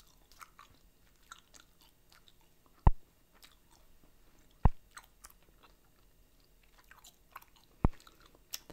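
Korean teddy bear bubble gum is chewed close to the mic in soft, wet, continuous mouth sounds, broken by three sharp, loud gum snaps spaced a couple of seconds apart.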